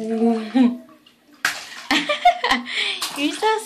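A small child splashes bathwater in a bathtub, giving short slaps and splashes in bursts, mixed with an adult voice and the child's chatter nearby.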